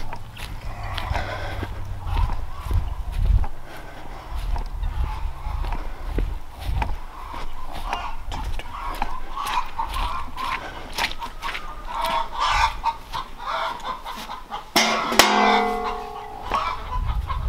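A flock of laying hens on a muddy winter farm clucks and murmurs continuously at close range, with scattered sharper calls and some clattering, and a louder burst of squawking near the end.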